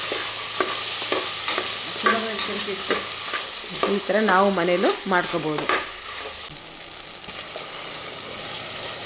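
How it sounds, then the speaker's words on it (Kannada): Ground masala frying in a pan for pumpkin sambar, a steady close sizzle with scraping stirring strokes, while a voice talks over the cooking partway through. "ಈಗ ರುಬ್ಬಿರೋಂಥ ಮಸಾಲೆನ ಇದಕ್ಕೆ ಸೇರಿಸಿ ಅದನ್ನು ಫ್ರೈ ಮಾಡ್ಕೊತಾ ಇದ್ದೀನಿ"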